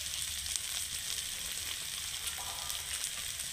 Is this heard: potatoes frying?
yes